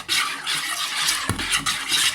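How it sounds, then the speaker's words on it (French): Madeleine batter stirred in a bowl: steady, close wet swishing scrapes run continuously with no voices, broken by one soft knock of the utensil midway. "Je vais peut-être mélanger un peu plus vite."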